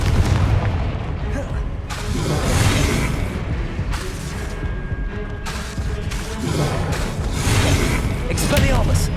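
Confringo spell blasts in Hogwarts Legacy going off in the middle of combat, with several loud booms and whooshes arriving in waves among other spell effects.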